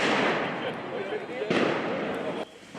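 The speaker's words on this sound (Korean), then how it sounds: "시위대가 경찰을 겨냥해 쏜 폭죽이 경찰 머리 위에서 연이어 터집니다." Fireworks fired by protesters burst over police lines during street riots in Paris, dense crackling blasts in quick succession, loud and close, with a reporter's voice running over them.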